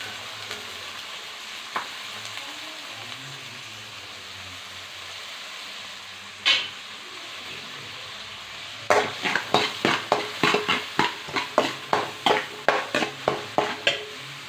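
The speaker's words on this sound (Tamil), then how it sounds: "வெங்காயம் நல்லா வணங்கிட்டு இருக்கு" Small onions sautéing in hot oil for a village-style broad bean sambar: a faint, steady sizzle, then a quick run of sharp, rhythmic spatula scrapes against the pan near the end.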